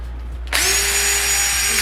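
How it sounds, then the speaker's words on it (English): A power drill of the kind someone considered using to relieve toenail pressure after an ultramarathon starts up after half a second of near quiet, then runs steadily with a loud, high whine until the end. "So I thought I was gonna have to drill it like this, with this kind of a drill"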